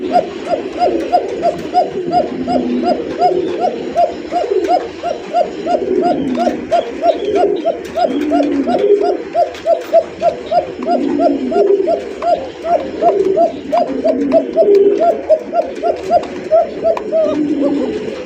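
Shalik koka pigeons, a fancy pigeon breed, calling in one long unbroken run of quick, evenly repeated coos that keep pulsing steadily for the whole stretch, close by and fairly loud, with no talking.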